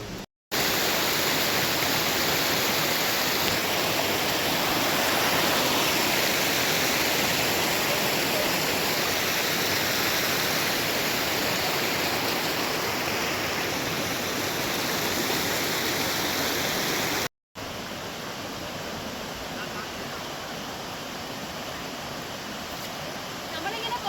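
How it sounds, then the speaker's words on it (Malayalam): Meenmutty waterfall roars as a steady, loud broadband rush of falling water, continuous throughout with a brief dropout near the end, and no clear talk over it. "പോകുമ്പോഴേ സൗണ്ട് ക്ലിയർ ആവുന്നില്ലേ മീൻകുട്ടി വെള്ളച്ചാട്ടം"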